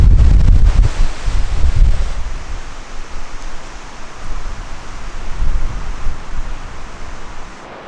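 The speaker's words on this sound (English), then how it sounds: "The wind is lame." Strong wind blows outdoors and buffets the microphone with loud rumbling gusts, heaviest at first, then easing into a steady rushing roar, with no talking.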